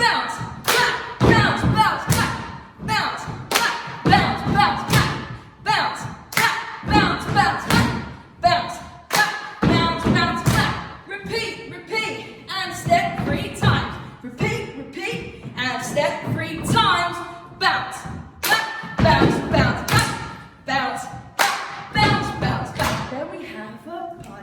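Dancers bounce and clap in time to a children's song, with a steady run of loud thumps and claps repeating through the track, mixed with singing and an instructor's voice.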